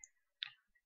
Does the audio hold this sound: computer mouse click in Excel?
yes